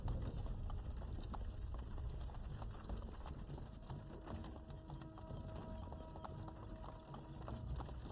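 Horses' hooves clip-clop in Assassin's Creed III, a steady run of close hoof beats over a low ambient bed, with occasional faint tonal game sounds.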